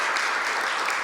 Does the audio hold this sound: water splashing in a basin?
no